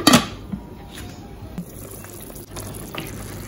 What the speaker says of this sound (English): Yes, it's the water for the rice.